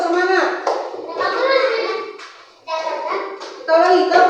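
A classroom of young children does a rhythmic group clapping cheer, with steady hand claps mixed under their loud chanting voices throughout.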